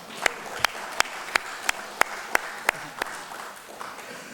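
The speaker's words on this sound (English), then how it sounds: "Let's give him a round of applause." Delegates at a general assembly clap, with a few sharp, evenly spaced claps standing out over a fainter patter of applause that fades near the end.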